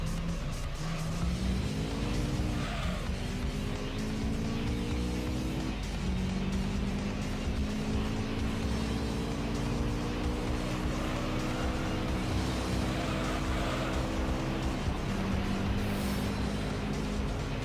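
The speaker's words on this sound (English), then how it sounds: "Tommy Kyra spun out the Lotus." Lotus race car in Gran Turismo 3 on track, engine note rising and falling through gear shifts in steady harmonic sweeps, a sudden drop near the spin, then revving back up, loud and continuous with no voices.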